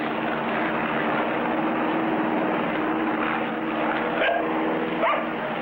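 A cartoon airplane drones in a steady, loud, unbroken hum with a faint whine over it.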